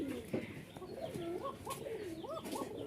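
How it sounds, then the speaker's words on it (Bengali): A pair of white Rajshahi Giribaz pigeons coos close by, a run of soft rising-and-falling warbles repeated steadily over a faint background hum. "একজোড়া রাজশাহী সাদা গিরিবাজ"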